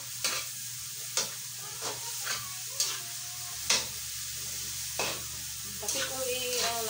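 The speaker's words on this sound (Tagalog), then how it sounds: "Igisa natin para tapos halo na natin yung taba." Pork fat sautés in a hot pan with a steady, bright sizzle while a utensil scrapes and stirs it in regular strokes roughly every half second to second, close and loud, with no talk.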